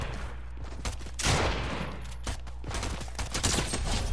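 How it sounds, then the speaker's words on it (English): Rapid SMG fire crackles in short bursts in a Fortnite gun game match, fairly close and sharp, with brief pauses between volleys. "Oh, why do you get an SMG?"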